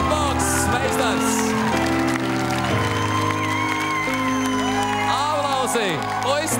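A talent show crowd applauds and cheers for a beatbox performer, steady clapping over loud music while a host speaks throughout.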